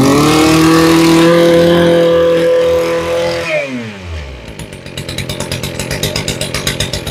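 A used Japanese grass cutter engine idles with a steady drone, then its pitch sweeps down before settling into a rough, pulsing putter that continues close and loud to the end.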